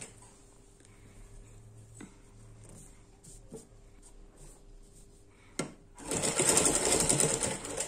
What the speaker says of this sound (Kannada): ಕಂಪ್ಲೀಟ್ ಹೀಗೆ ಸ್ಟಿಚ್ ಮಾಡ್ತಾ ಇದ್ದೇನೆ ಹೀಗೆ ಕಂಪ್ಲೀಟ್ ಈಗ ಸ್ಟಿಚ್ ಮಾಡ್ತಾ ಇದ್ದೇನೆ ನೋಡಿ